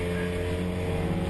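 Ford Fiesta race cars with Ford engines circulate at Brands Hatch during the Formula Ford Festival, a steady, loud, droning engine roar that holds without break, with no voices over it.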